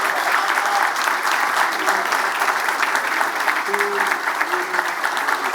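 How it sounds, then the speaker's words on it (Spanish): Audience applause at a Colombian tribute ceremony honouring football coach Francisco Maturana, a dense, steady wash of many hands clapping throughout, with faint voices and a brief tonal sound underneath. "Por favor, un aplauso para Rafael Araujo Gámez."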